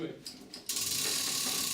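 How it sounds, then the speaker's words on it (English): A chain ratchet hung from a hook on a ceiling beam hoists a millstone by a harness, giving a few soft clicks and then a steady, loud metallic rattling ratchet sound running without pause. "A chain ratchet is attached to a hook on the ceiling beam"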